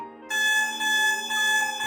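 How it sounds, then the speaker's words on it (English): A D3D D9 security alarm system siren sounds a steady, loud electronic tone rich in harmonics, starting abruptly after a brief quiet moment and holding continuously with slight wavering in level. "control panel raises an alarm through the siren"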